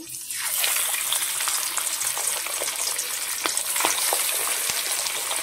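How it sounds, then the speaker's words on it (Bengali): Whole fish frying in a generous amount of hot oil in a wok, a steady loud sizzle with crackling pops running through all five and a half seconds, no voices. "এবার মাছগুলোকে আমি ভেজে নেব।"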